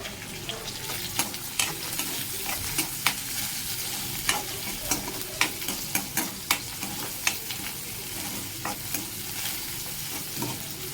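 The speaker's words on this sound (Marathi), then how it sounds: "मस्त असा कांदा तडतड तडतड होतो" Onion and curry leaves sizzle steadily in hot oil for a tempering, a continuous crackling hiss broken by frequent sharp scraping taps of a spoon stirring the pan, close and moderately loud with no talking.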